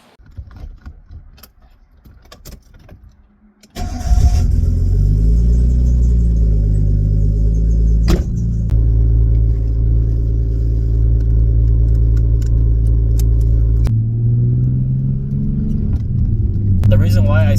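A Nissan R32 Skyline GTS-t sedan engine starts after a few seconds of quiet handling noises and then idles steadily with a deep, even rumble that shifts pitch briefly near the end.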